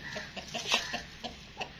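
Chickens cluck softly in short, regular bursts, close by and alone with no talking.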